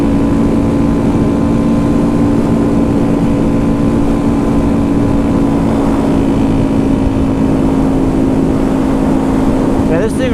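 Honda Grom motorcycle ridden on a rural road, a loud steady engine drone with strong wind rush over the microphone, unbroken throughout.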